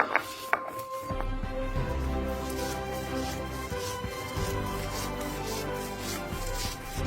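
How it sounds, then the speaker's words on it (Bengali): Boiled chukka leaves being ground with dried chilli and garlic, likely on a stone, produce a steady rough scraping and rubbing that runs continuously and close by, with no talk. "এখন আমরা এটাকে বাটবো। বাটাবাটি শুরু করে দিলাম।"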